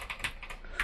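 A terminal command is typed on a computer keyboard in a brief run of crisp, close keystrokes that land at an uneven pace.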